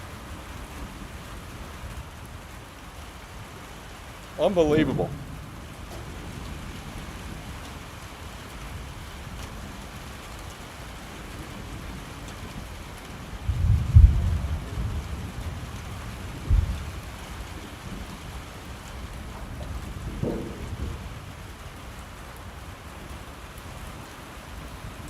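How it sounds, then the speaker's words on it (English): Rain falling outdoors, a steady faint hiss of drops throughout with a few low rumbles and bumps, and a brief spoken exclamation near the start. "Oh yeah, you can hear the rain."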